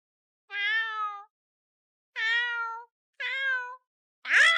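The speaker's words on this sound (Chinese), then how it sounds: "哪来的野猫？" A stray cat in a palace garden meows four times, clear and close with gaps of silence between each cry, the last call higher and more strained.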